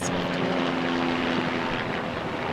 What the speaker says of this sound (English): You can hear the helicopter, which the helicopter is not real either, in case you're wondering.